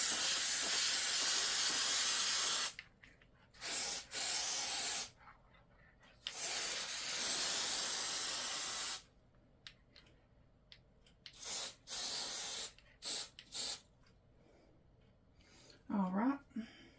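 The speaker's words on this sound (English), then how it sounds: "Take your glue and spray this side that's going to be covered." Spray adhesive hisses onto the covered side of upholstery material for a 1960 Chevrolet Bel Air, in a series of short and longer bursts broken by brief pauses. The spraying is close and steady, and a faint squeak comes near the end.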